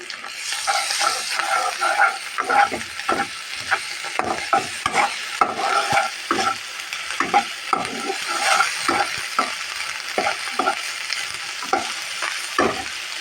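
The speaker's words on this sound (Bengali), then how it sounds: "এখন আমি আদা চামিচ আদা আদা চামিচ রসুন দিয়ে দিলাম এটাকে একটু ভেজে নেব" Ginger and garlic paste fries in a pan, a loud continuous sizzle broken by frequent sharp spatters and stirring scrapes, close up and steady throughout with no voices.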